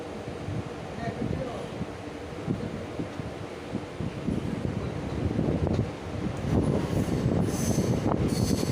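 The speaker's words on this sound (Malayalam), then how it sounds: "ട്രെയിൻ അങ്ങനെ കായംകുളം ജംഗ്ഷൻ റെയിൽവേ സ്റ്റേഷനിൽ വിടുകയാണ്" A train pulling out of Kayamkulam Junction railway station rumbles steadily, with wheel squeal rising near the end and wind buffeting the microphone throughout.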